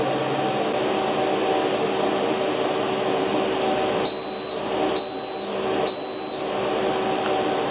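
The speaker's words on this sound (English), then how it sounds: "it's doing a vacuum leak test" A refrigerant recovery machine runs a vacuum leak test with a steady mechanical hum, then gives three evenly spaced high electronic beeps near the end.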